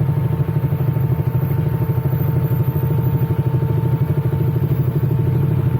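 A Ducati motorcycle engine runs steadily and loudly on a road, its low, pulsing idle rumble continuing without break.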